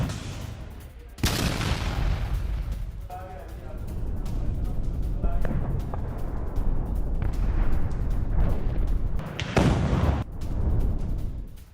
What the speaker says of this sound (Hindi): एंटी टैंक ग्रेनेड आरपीजी 7 से अटैक को लेकर खबर आई, जहां रूस की ट्रेंच लाइन पर कैसे प्रहार हुआ,